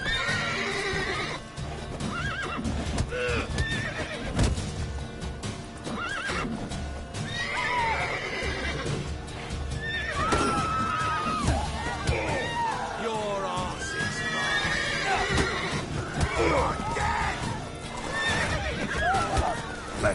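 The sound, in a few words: horse neighing and hooves in video game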